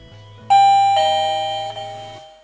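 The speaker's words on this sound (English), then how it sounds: "Press the doorbell." A Digoo SB-XYA wireless doorbell rings out a loud, clear multi-note chime that rings on and slowly fades, heard alone with no talking.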